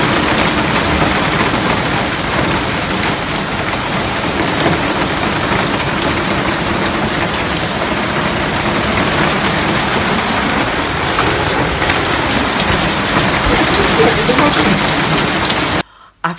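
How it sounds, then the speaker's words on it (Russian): Heavy rainstorm in Saint Petersburg, a dense, steady roar of downpour with hail and thunder around it, loud and continuous throughout before cutting off abruptly at the end. "У нас был просто огромный ливень, гроза, молния, град."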